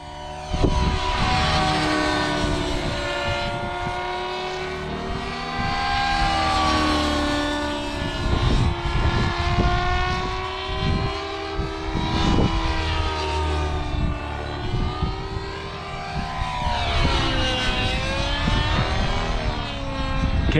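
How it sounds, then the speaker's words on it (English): Nitro RC helicopter, an SAB Kraken 580 with an OS engine, flying overhead: a continuous high-pitched engine whine with shifting pitch and rotor buzz, steady and fairly loud, rising and falling as it manoeuvres, no voices. "Can't beat an OS engine."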